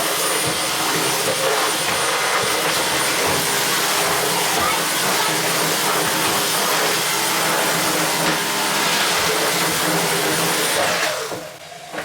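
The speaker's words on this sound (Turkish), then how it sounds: "Süpürüyorum." A household vacuum cleaner runs steadily at home, a loud continuous whooshing roar that holds for about eleven seconds before it begins to wind down. A voice is heard faintly under it.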